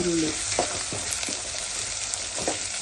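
Onions sizzle steadily in a pan for ragi uppitu, with several distinct stirring scrapes of a spatula breaking through the frying hiss at irregular intervals.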